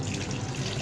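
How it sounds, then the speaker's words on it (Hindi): Water pours steadily into a falsa sharbat mixture with black pepper and a few ice cubes, a close, continuous splashing stream that runs unbroken for under a second. "पानी डालेंगे"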